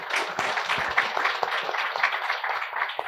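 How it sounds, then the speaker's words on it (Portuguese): An audience claps for a woman called Flávia at a talk event, a sustained round of dense applause that holds steady and fairly loud throughout, with no speech over it. "Palmas para a Flávia, gente."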